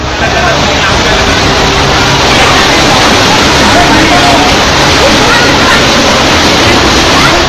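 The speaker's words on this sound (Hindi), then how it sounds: "संकरी गली में सैलाब का वेग और बढ़ गया।" Floodwater after heavy rain in Mumbai rushes down a narrow street in a loud, continuous roar of churning water, with a voice talking over it throughout.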